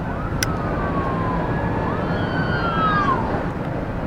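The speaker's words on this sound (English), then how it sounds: "there's an ambulance coming this way." Ambulance siren wailing over a steady rumble of traffic, sweeping up and down in long rising and falling tones, moderately distant and growing slightly stronger toward the end.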